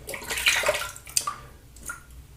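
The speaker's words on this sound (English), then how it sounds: "rinse off my hands and let's go ahead and get started on pass number 1" Hands being rinsed under running water after lathering shave soap, a short splashing burst of water with a few drips, close and without talk.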